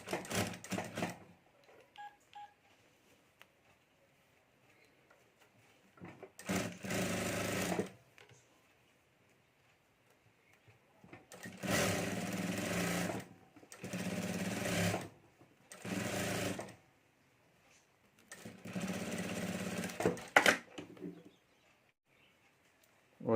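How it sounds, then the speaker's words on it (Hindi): A sewing machine stitches fabric piping for a potli bag, running in several loud bursts of rapid mechanical whirring separated by quiet pauses, close and alone. "और अब यहाँ ऊपर हमें सिलाई कर देनी है और ये पाइपिंग हमें तैयार कर लेनी है।"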